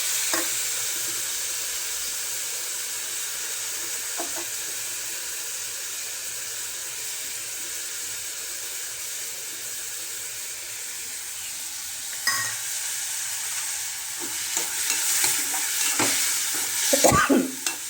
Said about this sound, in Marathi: चला आता छानपैकी टाकून घेऊया डाळ.